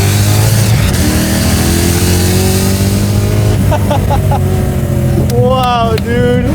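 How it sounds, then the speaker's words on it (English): A supercharged V8 swapped into a BMW E30 drones and revs loudly and continuously from inside the car, with a steady low engine note and supercharger whine throughout, while people talk over it. "Is that the supercharger I'm hearing the whole time?"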